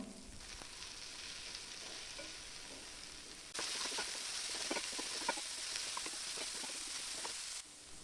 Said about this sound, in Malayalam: തൊലി ഇട്ട് കൊടുത്തതിന് ശേഷം നന്നായിട്ടൊന്ന് ഇളക്കിയെടുക്കാം